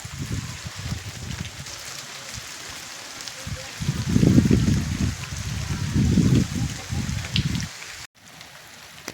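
Continuous patter of the first monsoon rain at sowing time in Varal village, Sihor taluka, Gujarat, with a soft, steady hiss, swelling louder in the middle and easing toward the end.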